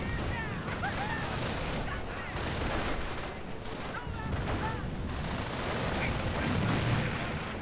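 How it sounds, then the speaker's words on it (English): Distant gunfire from a machine gun bunker in a Company of Heroes 1 battle, a dense crackle of shots and scattered booms running steadily throughout, with faint voices mixed into the background. "Machine gun bunker there."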